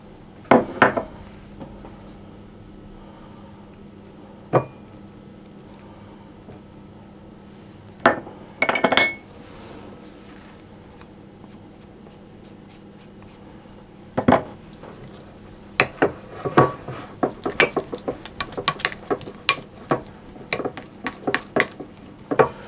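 Cake batter mixed with butter and almonds in a bowl, sporadic clinks and scrapes of a utensil against the bowl, quiet at first and growing into quick irregular tapping toward the end.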